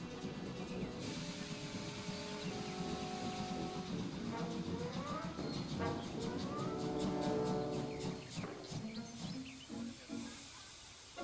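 Steam locomotive labouring up a hill while pulling a rake of coaches, heard loud and steady with dense rumbling and rhythmic chuffing that rises then eases toward the end, set against background music.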